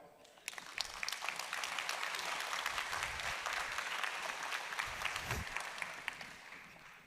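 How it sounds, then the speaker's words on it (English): An audience at a disaster-risk conference plenary in Kobe breaks into applause, a dense, fairly distant wash of clapping that swells and holds for several seconds, with a few isolated claps standing out. "please give some palms and applause to Mr. Guanzhen Chen"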